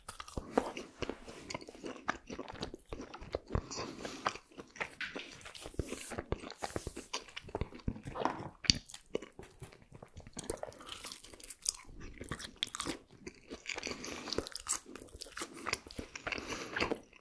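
Close-up mouth sounds of eating a Burger King burger and fries, with repeated crunchy bites and wet chewing in an irregular rhythm, loud and intimate, with no talking.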